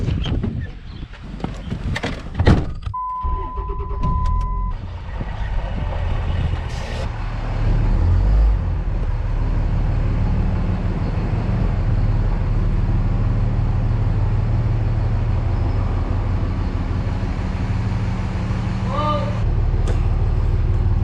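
Pickup truck engine running with a hay baler hitched behind, a loud steady low rumble that settles in after some clanks and a brief tone early on, continuing evenly with a short break near the end.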